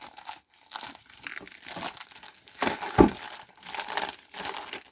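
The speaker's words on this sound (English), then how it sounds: "See if we can get more of this plastic to come off." Stiff protective plastic wrapping peeled and crinkled off a 1/18 scale Red Bull Formula 1 diecast model car, close crackling and tearing with a sharp crunch midway.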